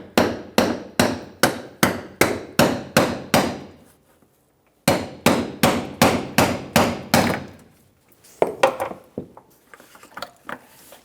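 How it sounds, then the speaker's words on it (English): A hammer strikes a brass punch to drive off the fuel pump ring on a 2007-2017 Ford Expedition, in two fast runs of about eight loud metallic blows each, then a few scattered softer taps. "Using a brass punch, we're going to remove the ring on the fuel pump."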